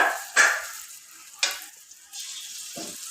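Egg frying in a pan on a gas stove, with a steady sizzle broken by a few louder spatters and scraping stirs, close and alone without talk.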